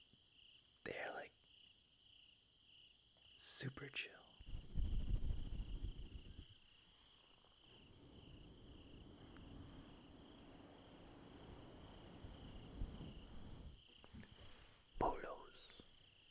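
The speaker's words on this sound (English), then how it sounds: "crickets tonight" Crickets chirp at night in a steady, high, continuous trill that runs throughout at low volume, while a person whispers and murmurs softly close by.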